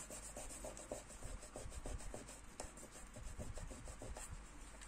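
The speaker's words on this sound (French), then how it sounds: "On va passer un petit coup de chiffon." A cloth is wiped across a handmade card with sticky glue: repeated close scrubbing strokes that rise and fall in an uneven rhythm, with no talk.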